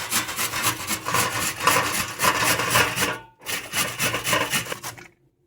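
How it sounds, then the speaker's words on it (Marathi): Amla (Indian gooseberries) are rubbed across the coarse side of a grater, giving steady, rhythmic scraping strokes. The strokes pause briefly partway through, then resume and stop. "हे बघा, असं किसून घ्यायचंय,"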